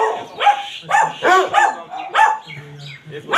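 An elderly female dog barks and yelps several times in quick, uneven bursts, close and loud, with short pauses between calls.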